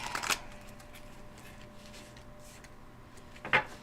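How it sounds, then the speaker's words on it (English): Tarot cards are shuffled in two brief riffling bursts, one at the start and one near the end, separated by a quiet stretch with a faint steady hum. "let me shuffle these up"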